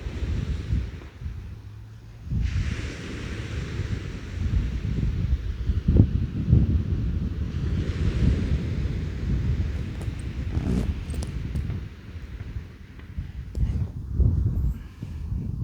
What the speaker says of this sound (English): It's a tad windy